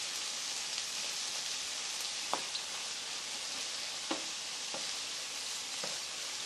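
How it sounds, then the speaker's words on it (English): Sliced courgettes fry in a pan with a constant close crackling sizzle, broken by a few sharper pops, and no voices. "And with the courgettes in this pan, you want to see them start to brown before you take them out."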